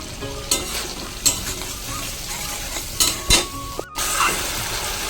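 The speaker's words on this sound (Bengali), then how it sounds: "সর্ষের কাঁচা লঙ্কাটা দেওয়ার ফলে কত সুন্দরভাবে মশলাটা একদম তেল পুরো ছপছপে করছে" Spice paste with green chili frying in mustard oil in a pan, a close steady sizzle broken by several scraping stirs and a sharp clank of a utensil against the pan.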